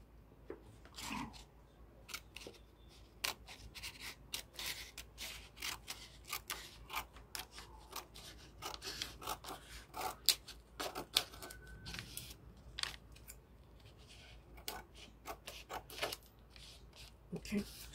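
Scissors snip through kente fabric while a bustier is cut out, giving many short, crisp cuts in uneven bursts, close and fairly quiet, with a voice talking now and then.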